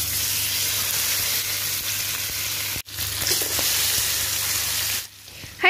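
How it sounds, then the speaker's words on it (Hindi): Masala fish fries in oil over a medium-low flame, giving a loud, continuous close-up sizzle with a momentary break midway. The sizzle thins near the end. "हर साइड को 3-3 मिनट तक फ्राई करेंगे पलट पलट के।"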